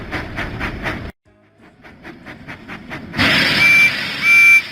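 Percy the tank engine from a Thomas and Friends video game gives a short run of rhythmic chuffing puffs, then a pause, another chuffing sequence, and a bright hiss with a whistle-like tone at the end.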